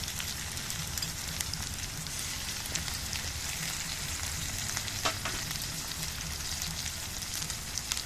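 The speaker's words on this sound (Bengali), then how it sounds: "মশলাগুলো ভালো করে মিশিয়ে নিচ্ছি।" Ginger, green chili and cumin pastes are mixed into browned onion paste in a hot pan, giving a dense, constant sizzle with faint stirring scrapes, near and steady, with no voices.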